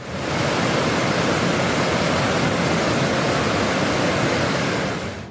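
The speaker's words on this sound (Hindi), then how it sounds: "नदी में बारिश का पानी अपने उफान पर है।" A river swollen with rainwater rushes during heavy monsoon rain around Darjeeling, a loud, unbroken roar of churning water that holds steady from start to finish with no voices.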